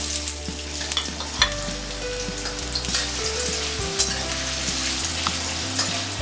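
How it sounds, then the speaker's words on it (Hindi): Potatoes fry in hot oil in a kadhai with a loud, continuous, close sizzle and crackle, occasional stirring scrapes and a low hum underneath. "तेल गरम हो जाने के बाद हम इसमें आलू डालेंगे।"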